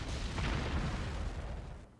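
Heavy battleship guns fire in a Panzer Corps naval battle, a dense, rumbling artillery boom that swells and then fades over about two seconds, heard faintly at a distance with no talk.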